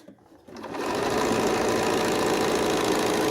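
A sewing machine stitches quilt pieces together. It starts up after a brief quiet moment and then runs as a loud, steady, fast mechanical whir close by.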